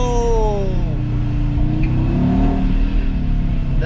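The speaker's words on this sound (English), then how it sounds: "a little bit silly in our bright green Audi and rev it a bit" A bright green Audi RS Q3 engine revs up close, with rising and falling pitch over a deep rumble, loud and continuous throughout.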